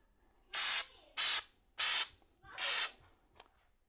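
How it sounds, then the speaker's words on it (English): Four sustained hissing bursts of drywall texture spray from a spray can, each about half a second long with short pauses between, fairly close and loud, with no talking. "we're just going to spray this with the texture."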